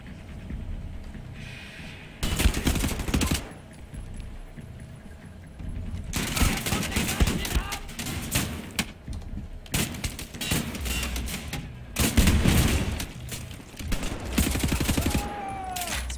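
Gunfire in Wolfenstein: The New Order, loud, close bursts of rapid automatic shots coming in several clusters, separated by quieter gaps with some metallic clatter.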